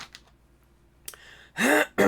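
Someone clears their throat with a couple of rough, raspy bursts, close and fairly loud, after a few quieter scraping sounds.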